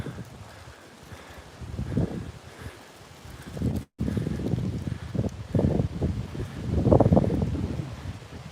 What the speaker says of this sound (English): I'm sorry if it's picking up on the mic, but it's really windy here.